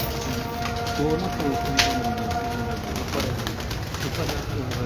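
Zareela Ferozpuri pigeons coo softly in a loft in Gowalmandi, Lahore, with repeated low throaty calls over a steady patter of rain-like background noise and faint voices nearby.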